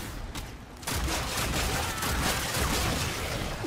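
Rapid shotgun fire in the game Warframe bursts out after a brief quieter moment, dense and continuous blasts filling the rest of the clip.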